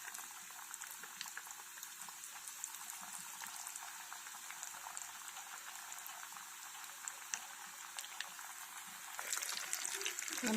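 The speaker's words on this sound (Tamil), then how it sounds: "வந்து மீடியம் ஹீட்டில் போட்டு ஃப்ரை பண்ணி எடுத்துடலாம்." Jalapeno cheese poppers fry in oil over medium heat, a soft continuous bubbling sizzle heard close but quiet throughout, growing slightly louder at the end.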